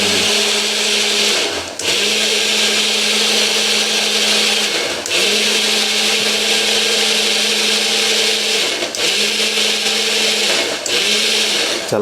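A blender grinding spinach into a smooth puree, loud steady motor whine in several bursts with brief pauses between pulses.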